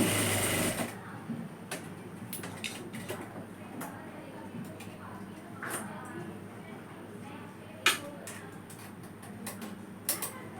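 A sewing machine stitches kurti fabric in short runs of fast, even mechanical ticking, close and clear, broken by a few clicks and pauses. Someone talks quietly over it.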